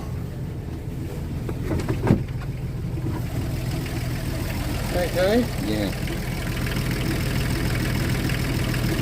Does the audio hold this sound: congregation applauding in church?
no